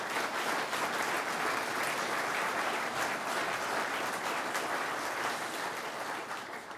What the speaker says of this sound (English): Jasper Taylor now stands for a round of applause.